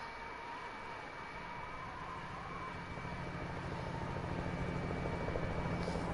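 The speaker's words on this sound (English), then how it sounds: "Chopper, ah! Where did he come from?" A helicopter in a video game flies overhead with a steady, dense rotor drone that swells slightly louder toward the end, with no talk over it.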